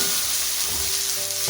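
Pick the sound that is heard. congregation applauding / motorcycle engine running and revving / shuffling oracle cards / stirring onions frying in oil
stirring onions frying in oil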